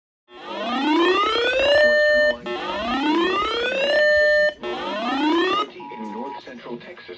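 Emergency Alert System attention tone on NOAA All Hazards weather radio: three loud, rising two-tone sweeps, each holding a steady pitch before cutting off, followed by a short fainter burst.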